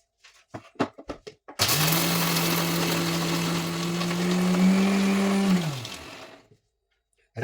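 A mixer grinder grinds peanuts, green chillies, garlic and cumin into a paste. A few clattering knocks come first, then a loud, steady motor whine runs for about four seconds and winds down.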